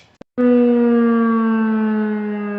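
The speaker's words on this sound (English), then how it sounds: "Noon siren" A small-town noon civil defense siren starts abruptly with a loud, steady wail that holds for a couple of seconds, close and alone, preceded by a brief click.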